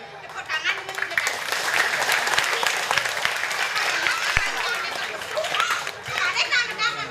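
Children clap and cheer at a lively outdoor performance, a steady wash of applause mixed with children's chatter and shouts lasting several seconds.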